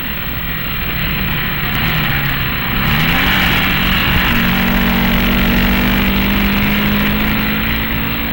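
A 1958 race car engine at Road America roars loud and close as it accelerates out of a curve onto a fast straightaway, its pitch rising through a gear change and then holding a steady high drone.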